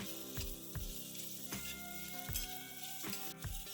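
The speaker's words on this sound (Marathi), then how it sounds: "आता त्यामध्ये आपण कोथिंबीर टाकून घेऊया। चांगले मिक्स करूया।" Fried onions with fresh coriander are stirred in a pan, the spoon knocking against the metal at a steady rhythm over a soft continuous sizzle. The sound is close and moderately quiet, and nobody speaks.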